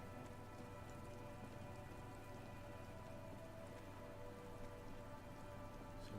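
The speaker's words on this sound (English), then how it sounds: "it's raining again" Rain falls steadily in the video game Disco Elysium, a soft, even patter that runs without a break over a low, faint tonal ambient hum.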